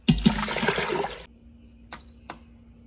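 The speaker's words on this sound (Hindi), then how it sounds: "इसमें चने डालेंगे और इतना पानी डालेंगे कि जिसमें ये गल जाए।" Water gushes into an electric cooker holding chickpeas for about a second. It stops abruptly, followed by a couple of faint clicks in near silence.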